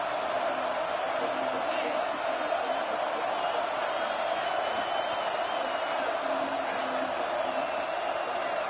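A college football stadium crowd roars continuously, a broad, steady wall of distant cheering and yelling from the stands, fairly faint and unbroken throughout.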